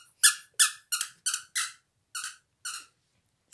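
A dog squeaks with its teeth in a run of short, high squeaks in a rough rhythm, about eight sharp chirps with brief gaps, close and clear against silence.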